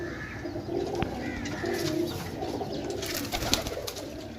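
Pigeons for sale, including teddy pigeons, coo softly at a bird seller's stand in Jhelum, Pakistan, with low repeated throaty calls and faint chirps in the background.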